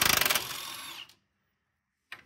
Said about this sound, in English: I'm gonna use my trusty Milwaukee impact.